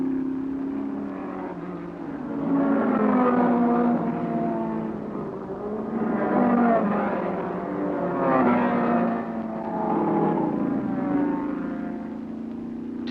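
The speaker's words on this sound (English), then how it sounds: "Tommy Hitchcock demonstrates the power of the Shelby Cobra" A Shelby Cobra sports car in a 1960s British GT race, its engine roaring loudly and steadily as it races, with the pitch swelling and dropping across several passes and no talk.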